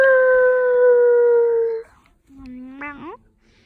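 A person imitates wolf howls while working a timber wolf hand puppet: one long sustained tonal howl, then a shorter rising and falling yelp, close and clear with no other sounds.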